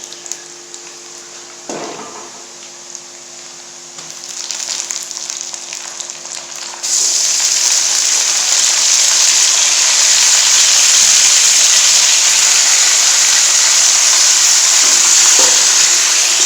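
Chicken pieces hit hot oil with browned onions in a pan and set off a loud, steady hiss of frying that swells and holds for several seconds after some quieter clatter at the start.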